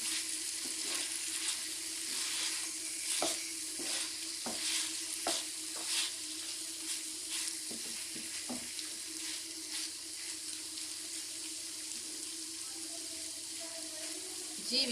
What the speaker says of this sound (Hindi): इसको हल्का सा मसाले में मिक्स करूंगी।